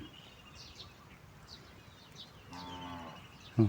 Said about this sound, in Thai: เสียงวัวแล้วเพื่อน เสียงวัว